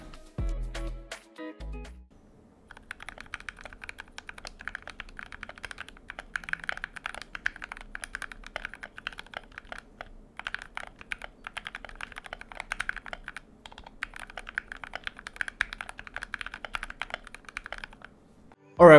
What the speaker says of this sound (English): After 5 mods, this is what the keyboard sounds like.